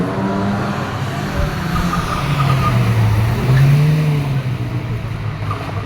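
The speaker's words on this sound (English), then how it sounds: "BMW coming down towards us." A BMW drifts close by, its engine roaring and revving steadily with a loud, sustained tone that rises and falls as the car slides through.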